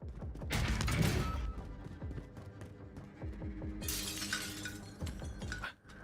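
Glass windows shatter in the Warzone video game: a loud, close crash of breaking glass followed by scattered tinkling and clinking, then a second bright burst of shards a few seconds later.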